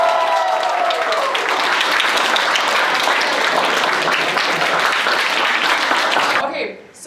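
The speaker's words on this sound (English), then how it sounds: "We will give a huge round of applause to her." Loud, sustained applause from an audience at a debate tournament awards ceremony in Poland, honoring the best speaker, with cheering voices mixed in before the clapping cuts off abruptly near the end.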